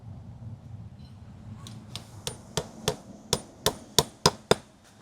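A hammer drives something in during garden work, about a dozen sharp, close blows that begin after a quiet stretch and come faster and louder toward the end, with no talking.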